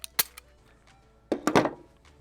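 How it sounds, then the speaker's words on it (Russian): The magazine is removed from a pistol, either a Sig Sauer P226T TK-Pro or a Grand Power T11 FM1, a cluster of sharp metallic clicks and a rattling slide-out, close and loud against quiet surroundings. "Извлечу магазин."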